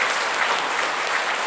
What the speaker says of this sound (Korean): 신부님 우리 큰 박수로 환영합시다